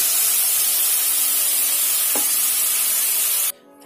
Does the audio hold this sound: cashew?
yes